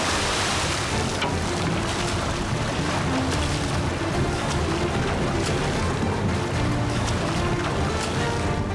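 Sea waves wash around a coast guard rescue boat on the East Sea, a constant near churn of water and surf with wind buffeting the microphone and brief splashes throughout.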